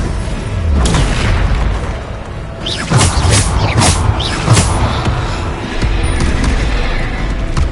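Repeated Bombarda spell blasts in the Hogwarts Legacy video game, deep booming explosions bursting one after another over a constant rumbling combat backdrop, loud and close.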